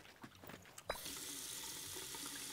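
Water from a virtual tap pours steadily into a sink as a character washes hands in a zombie survival video game, starting with a burst and settling into an even, close rush that continues alone.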